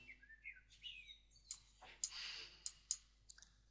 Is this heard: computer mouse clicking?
yes